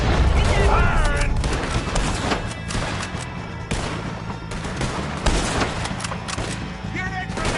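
A busy barrage of gunfire cracks and rattles in quick succession, loud and dense, with shouting voices mixed in over the shots.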